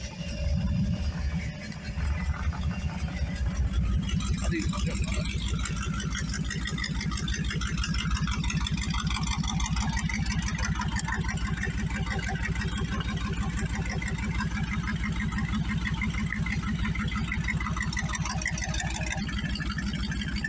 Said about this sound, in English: Alright, I'm going to start the car up, make sure it warms up, make sure it's actually going to work before I get too far.